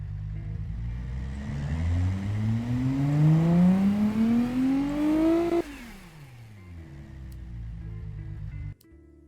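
A Toyota Hilux engine in the Automation and BeamNG.drive games revs up steadily in pitch for several seconds, then cuts back abruptly to a low, rumbling idle.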